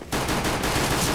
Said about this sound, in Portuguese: O gajo falhou os tiros